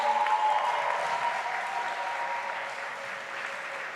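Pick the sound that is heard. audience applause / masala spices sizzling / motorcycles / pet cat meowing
audience applause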